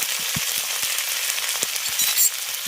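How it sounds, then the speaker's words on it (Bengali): Ginger, garlic, dried chilli paste, turmeric, Kashmiri chilli, cumin and coriander powders sizzle in hot oil with onion, a steady close frying hiss broken by occasional soft stirring taps. "এবার মশলাটাকে খুব ভালো করে কষিয়ে নেব"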